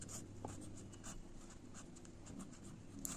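Pen or marker writing out a maths equation for partial differentiation, faint scratchy strokes in short bursts across a quiet room with no talking.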